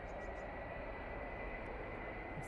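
A British Airways airliner landing at Manchester Airport makes a steady, broad jet roar that stays even and fairly distant throughout the short stretch.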